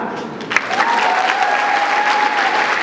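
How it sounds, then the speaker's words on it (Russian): Audience applauding honored guests at the Univer Vision 2018 final, a steady, dense wash of clapping that starts softly and swells within half a second, then holds at an even level to the end, with a faint voice or tone running beneath. "аплодисменты еще раз нашим почетным гостям"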